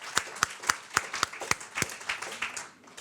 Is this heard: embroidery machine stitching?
no